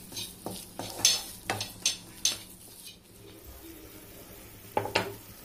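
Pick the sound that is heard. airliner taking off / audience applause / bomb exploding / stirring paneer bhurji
stirring paneer bhurji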